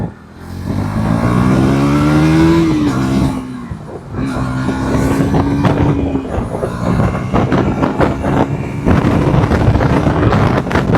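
A 200cc motorcycle accelerates hard from second gear in city riding, its engine note climbing steadily in pitch, dipping briefly at a shift, then pulling up again loud and close with wind noise throughout.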